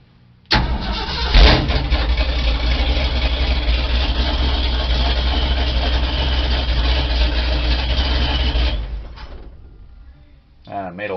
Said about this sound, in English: So let me fire the truck up.